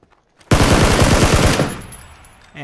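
A sudden burst of rapid gunfire in PUBG, a quick string of loud shots lasting about a second before fading into a short reverberant tail.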